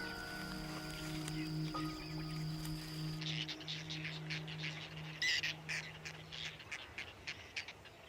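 Wild birds calling along the shores of Lake Nasser, with a steady low hum early on, then a scattered series of short chirps and squawk-like calls at moderate distance.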